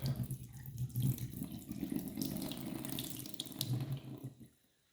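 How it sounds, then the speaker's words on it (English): Running tap water pours over soaked seaweed as it drains in a kitchen sink during nettle soup preparation, a steady close splashing stream that carries on for several seconds before cutting off abruptly near the end. "Get your seaweed, if you're using, drain it off."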